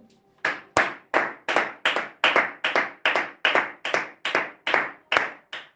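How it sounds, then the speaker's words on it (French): A church congregation applauds after a Bible reading, giving roughly fourteen sharp, evenly spaced unison claps in a steady rhythm. The claps are loud and close, with no talk over them. "Pourrons-nous acclamer pour la lecture?"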